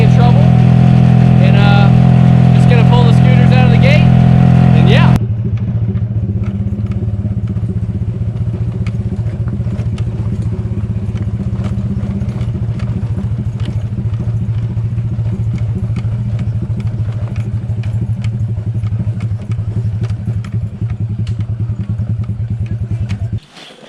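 Motor scooters are ridden out through a gate in the Philippines, giving a close, steady mid-pitched engine drone. A louder, tonal burst opens the sound, then the engines run continuously until they cut off abruptly at the end.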